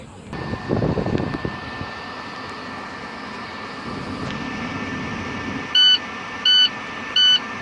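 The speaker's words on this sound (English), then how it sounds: "That's our audible and visual alarm." A truck's air brake system sounds its low-pressure warning alarm once the gauges fall to zero psi: three evenly spaced, loud electronic beeps near the end, over a steady background hum.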